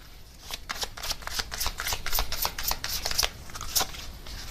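Tarot message cards being shuffled, a rapid run of crisp papery riffles and flicks that builds steadily over several seconds, close and fairly loud with no voices.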